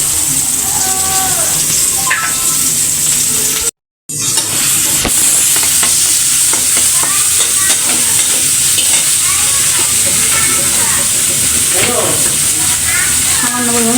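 Onion and green chili frying in hot oil in a pan while being stirred for a Bengali vegetable dish, a loud steady sizzle and hiss with scraping stirs; a brief silent gap early, and a voice talks intermittently over it.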